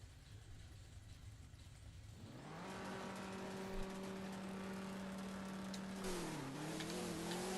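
Drag racing car in the video game No Limit 2, an engine note climbing steadily as it revs and accelerates down the strip, with a gear change near the end and no talking.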